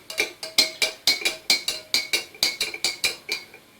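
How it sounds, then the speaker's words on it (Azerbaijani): A spoon stirs salt into water, clinking rhythmically against the container about a dozen times in quick, bright, close strikes. "Qaşıqla qarışdırım ki"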